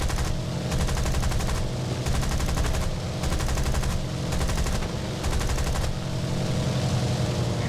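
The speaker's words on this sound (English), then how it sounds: "Get my guns on target and light him up." Aircraft machine guns of a Gladiator Mk II in the video game War Thunder fire in several sustained bursts, each a rapid, loud rattle separated by short pauses, over a steady engine drone.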